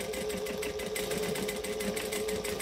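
A sewing machine runs steadily through a top stitch on a fabric case, a continuous close mechanical whir with a fast, even needle rhythm and no talking.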